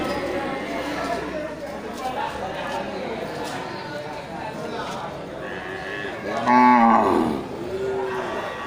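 Several Aceh cattle moo at a busy cattle market, one loud low call rising near the end, with people talking and general crowd noise throughout.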